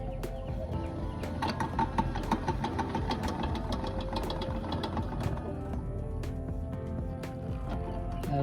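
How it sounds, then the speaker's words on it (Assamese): A hand-cranked honey extractor turns at a bee farm in Golaghat, giving a dense, rhythmic mechanical rattle and whir that runs steadily and close throughout. "এইটো ইয়াত ভৰাই আপোনাক যদি ঘূৰাই দিওঁ এইটো হ'ল হেণ্ড মেচিন এটা"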